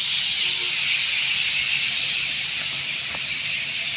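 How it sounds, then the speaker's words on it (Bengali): Dense chorus of thousands of birds gathering in a garden at dusk, a continuous high chattering wash that stays loud and steady throughout, with no voices. "হাজার হাজার পাখি এই বাগানে"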